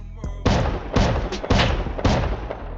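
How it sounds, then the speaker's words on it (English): Shotgun traps firing in the survival game Rust, four heavy booming blasts spaced roughly half a second apart, loud and close with a rumbling tail after each shot. "See, shotgun traps,"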